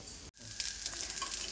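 Dosa frying in about a tablespoon of oil on a pan gives a steady, close sizzling hiss, broken by a brief dropout near the start, then crackling on evenly.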